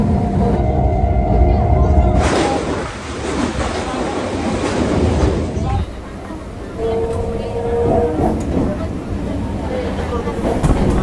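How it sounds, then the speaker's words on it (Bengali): A train pulls into platform 1 at Namkhana station, a loud steady rumble of wheels and carriages rolling close by with a brief squeal of brakes toward the end. "1 নম্বর প্ল্যাটফর্মে ট্রেন ঢুকেছে।"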